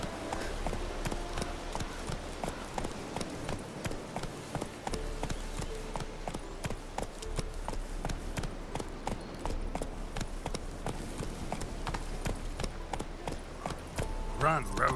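Horse hooves galloping steadily in The Witcher 3 video game, a continuous rapid clip-clop rhythm of sharp hoof strikes over a low rumble, running for the whole stretch with a voice talking faintly over it.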